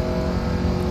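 A car engine revs steadily under throttle, a loud, close, sustained drone with a smooth harmonic tone, lasting under a second.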